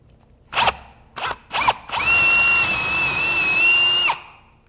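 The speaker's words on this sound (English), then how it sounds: "so now that we've got the pilot holes drilled" A power drill whirs in three short bursts, then runs in one longer steady whine for about two seconds before stopping, drilling pilot holes in wood.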